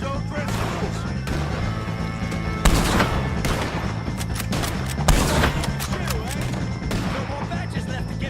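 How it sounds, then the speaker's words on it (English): Rapid gunfire crackles steadily through a chaotic Red Dead Redemption 2 shootout against O'Driscoll gang members, with two heavier blasts standing out amid the continuous volleys and game noise. "shoot some of these O'Driscolls!"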